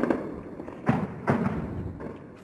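Explosions echo over the Syrian city of Deir ez-Zor during a tank assault, with tanks on a hilltop overlooking the town; several dull, booming thuds at irregular intervals roll out over a continuous rumbling background.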